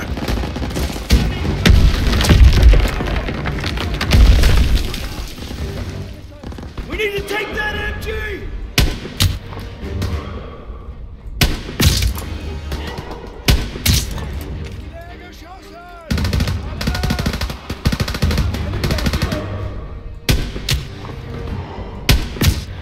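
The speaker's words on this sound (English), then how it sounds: "Gunfire! We must be near our guys." Heavy, repeated gunfire and explosive booms in the World War II shooter game Call of Duty WW2, bursts and rattling volleys close and loud, with a voice talking intermittently over the battle.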